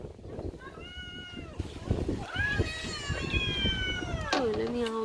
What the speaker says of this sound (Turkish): böyle miyavlıyorlar işte